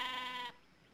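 A single sheep's bleat, loud and close with a wavering, nasal tone, lasting about half a second before dropping away to a quiet background.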